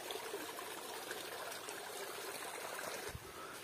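Water streams steadily along a path near a temple, a continuous close rushing and trickling flow with no talk over it.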